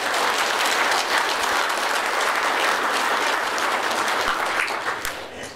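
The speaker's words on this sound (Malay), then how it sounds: "kita berikan tepukan bergemuruh pada semua" Loud, thunderous applause from a crowd for immigration, police and RELA enforcement officers at an integrated operation, a dense continuous roar of clapping that fades slightly near the end.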